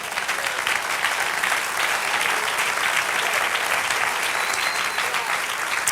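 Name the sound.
applause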